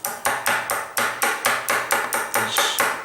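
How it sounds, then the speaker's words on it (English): A hammer taps a pin out of an old Tissot watch: about a dozen sharp, close metallic strikes in an even, quick rhythm, with no speech. "we're going to hammer it"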